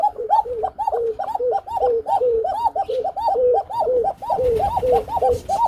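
A pair of Kuka pigeons coo close by in a steady run of repeated, evenly spaced calls, clear and fairly loud, with faint background noise rising near the end.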